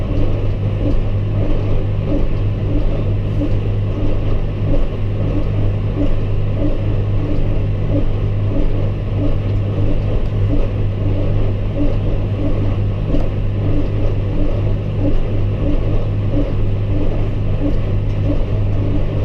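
A tractor runs steadily while pulling a hay baler through crazy thick rye, a loud, constant low engine drone with rhythmic mechanical pulsing that continues unbroken throughout, no pauses or separate events.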